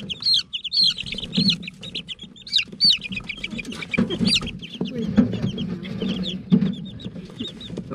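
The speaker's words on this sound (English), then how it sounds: "Okay, little chickens." A brood of young chicks peeps and chirps rapidly and continuously close by, over a low background murmur of soft clucks and rustling.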